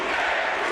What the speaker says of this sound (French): Bouteille est encouragé par la foule ici au Centre Bell.